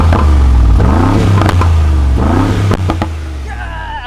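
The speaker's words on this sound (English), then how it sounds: "You can actually get that Brabus exhaust system note" A Brabus hypertruck's exhaust in Sports Plus mode, revving up twice in loud, deep, close bursts with sharp crackles and pops, then settling to a rumbling idle as a voice starts talking.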